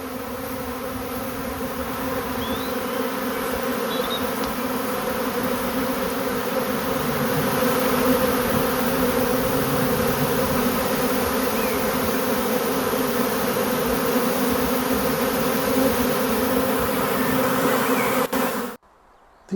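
Honeybees swarming around apiary hives, a dense continuous buzzing hum with occasional individual bees flying close past, steady and loud until it cuts off abruptly at the end.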